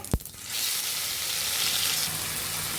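Bay leaf, cumin seeds and egg hit hot white oil in a pan for a goat rezala, starting with a sharp splash and then settling into a steady, loud, close sizzle and crackle that continues with no voice.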